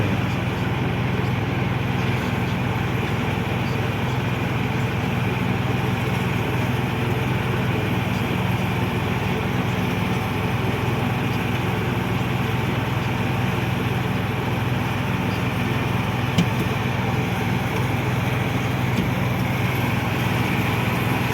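A loud, steady engine drone from a berry combine harvester threshing currants runs without a break, a constant mechanical roar of heavy machinery nearby.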